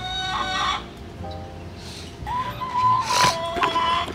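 Chickens in a backyard coop cluck and squawk in short, close bursts, with a rooster-like crow rising midway, over a low outdoor background.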